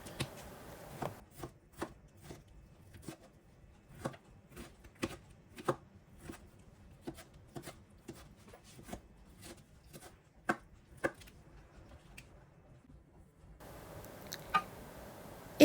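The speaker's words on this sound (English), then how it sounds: "remove the core, the centre part of the tomato, as you can see me doing here, and then chop it up into pieces" A knife chops a cored tomato into pieces on a board in a quiet kitchen, with sharp, close, evenly spaced cutting knocks and short pauses between them.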